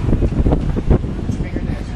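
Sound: wind

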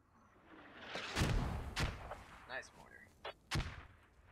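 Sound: mortar fire in the video game Squad

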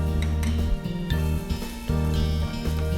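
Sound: stirring ginger in a frying pan while cooking bagoong isda

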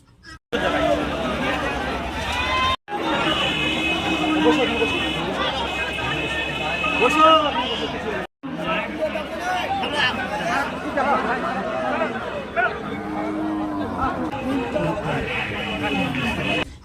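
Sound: crowd hubbub at a livestock and goat market

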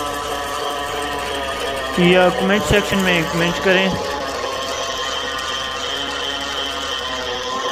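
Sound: homemade ceiling fan coil winding machine running

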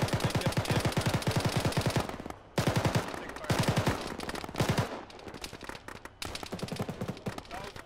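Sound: big gun firing in a video game (Arma, ShackTac)

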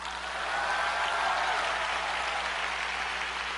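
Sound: audience applause

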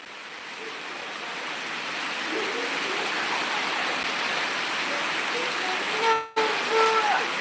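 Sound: rain falling

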